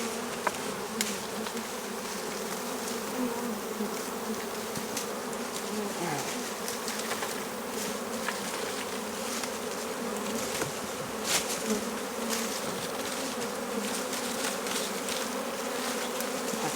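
A honeybee swarm being gathered hums as a dense, steady buzz that fills the whole stretch, close and continuous, with individual bees zipping past near the ear now and then and no talk.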